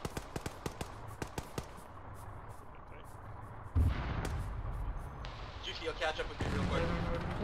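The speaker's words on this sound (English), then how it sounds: "Is that a tank cannon from the north-northeast?" A loud, deep boom from a tank cannon, followed by sustained rumbling and scattered distant gunfire in a video game soundscape.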